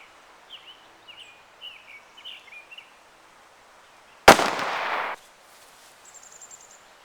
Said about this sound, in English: One of the problems with shooting muzzle-loading guns.